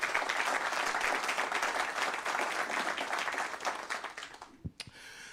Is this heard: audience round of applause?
yes